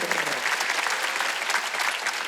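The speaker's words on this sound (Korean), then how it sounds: "박수야." A church congregation applauding during a Wednesday worship service, dense steady clapping from many hands, loud and close throughout.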